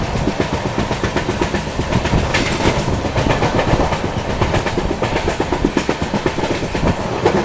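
A Shatabdi Express chair car runs on its rails with a loud, steady clickety-clack and a rhythmic rumble of the wheels. There is continuous carriage noise and no voices.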